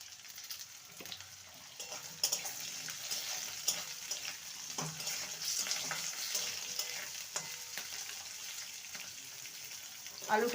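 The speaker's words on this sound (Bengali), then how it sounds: "এবার আলুগুলো দিয়ে দেবো আলুগুলোকে ভেজে নেব" Potatoes sizzle steadily frying in hot oil in a pan, with occasional scraping and stirring knocks from a utensil against the pan.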